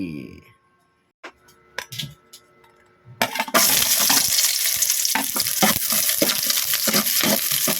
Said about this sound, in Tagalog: nagigisa na tayo ng sibuyas